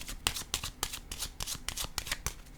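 Tarot cards being shuffled up close, a quick run of crisp riffling bursts in an uneven rhythm, with short pauses between them.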